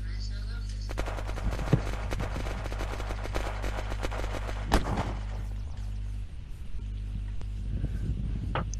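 Rapid gunfire crackles in the survival game Unturned during an arena PvP match, dense bursts of shots with a few sharper cracks, set over a constant low engine-like hum.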